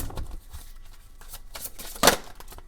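Tarot cards shuffled close by in quick, uneven riffles and soft slaps, quiet, with one sharper burst near the end and no talk.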